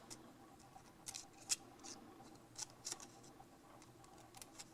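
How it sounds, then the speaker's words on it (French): Scissors snip through coffee filter paper to shape flower petals, giving a quiet, close series of short crisp cuts at an uneven pace, with a few sharper snips among them. "Il y a juste ensuite à découper les pétales"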